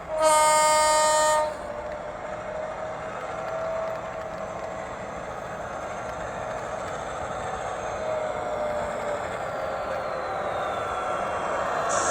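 An Accurascale TPE Mk5 model locomotive with DCC sound gives a loud horn blast at the start, then its engine runs with a steady, moderate drone.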